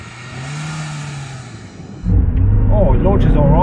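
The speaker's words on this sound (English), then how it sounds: "Brake off, put the revs up, find a bite point." A Lada car engine idles with a steady hum, then abruptly roars louder and revs up, its whine climbing and wavering as it launches.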